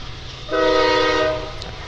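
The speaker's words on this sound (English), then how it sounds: "As the train starts to roll by here in Patriot Park" A passing train at Patriot Park baseball field during a college baseball game sounds a loud, sustained horn blast of about a second over low background rumble.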